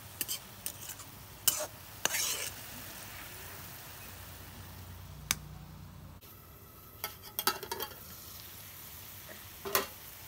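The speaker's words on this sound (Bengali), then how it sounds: "শুটকি মাছ দিয়ে পাতাকপি ভাজা হয়ে গেছে," Cabbage stir-fried with dried fish in a pan gives a steady low sizzle, broken by sharp scrapes and clinks of a spatula at irregular moments.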